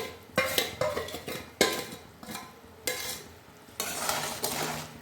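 Jaggery and jujube pickle stirred in a pot, a spoon scraping and knocking against the metal in repeated strokes over a soft bubbling sizzle, close up.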